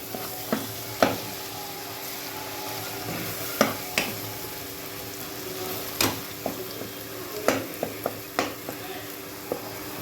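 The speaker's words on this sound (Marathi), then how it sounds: "आता हे वाटण छान परतायचं" Ground masala paste with turmeric being sautéed in a pan, giving a low steady sizzle with scattered sharp clinks and scrapes of a spoon stirring, moderately close and without talk.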